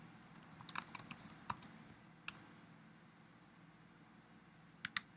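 Quiet bursts of computer keyboard typing, a quick cluster of keystrokes early on, then isolated taps and a final pair of clicks over a faint hum in an otherwise still room.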